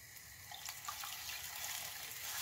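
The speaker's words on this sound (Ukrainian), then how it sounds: "І десь пів стаканчика води просто додам сюди зараз." Water runs and splashes steadily into a pot while chicken feet cook in a sweet-and-sour garlic sauce, a soft continuous liquid rush with faint trickles, close and alone.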